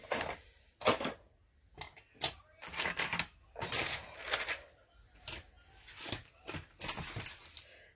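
Scissors snipping notches into cardboard while folding a box, a run of sharp crisp cuts in an uneven rhythm, close and clear, with a person talking intermittently between them.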